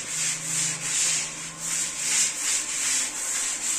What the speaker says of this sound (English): So now I will continue rubbing.